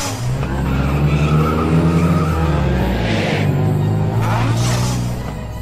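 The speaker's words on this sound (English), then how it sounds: "All right, here's my car. We gotta get to Mikey's right away." Car tires skid with a loud, sustained screech, followed by the engine pulling away, loud and close throughout with no talk over it.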